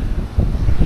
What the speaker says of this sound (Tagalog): Lalong tumindi ang lakas ng ulan at hangin.